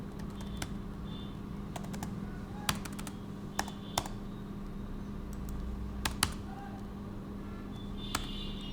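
Someone types a search query on a computer keyboard, producing sparse, sharp key clicks and a few quick clusters over a steady electrical hum.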